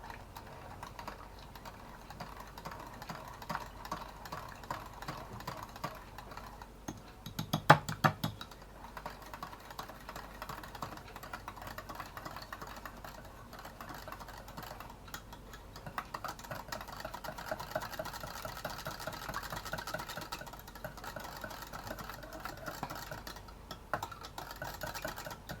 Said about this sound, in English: you just whisk that in until it becomes smooth